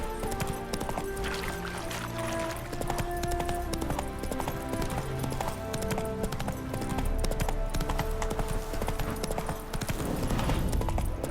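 Hooves of Roach, Geralt's horse in The Witcher 3 game, clip-clop in a steady, brisk rhythm throughout, layered with tonal background music at a moderate level.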